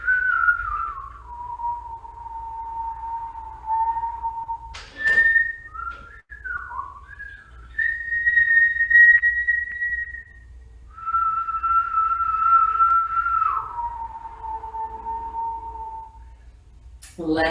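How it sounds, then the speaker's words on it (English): Breath drawn in through rounded lips makes a long, steady whistle that holds one pitch, breaks into a few wavering tones, then settles into more long sustained notes, close and clear. "take deep inhale through rounded lips. Whistle in."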